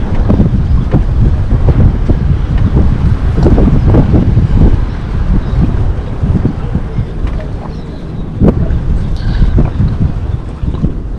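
Strong wind buffets the microphone in heavy, continuous low rumbling gusts at a fishpond while tilapia fishing, with a few sharp knocks and water-like splashes breaking through.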